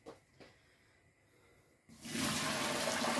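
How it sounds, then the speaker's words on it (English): Hot liquid steeped with dandelion flowers and orange peel poured through a honey sieve onto sugar: after quiet handling and a couple of light knocks, a loud rushing pour begins and carries on steadily to the end. "all poured in on top of the sugar"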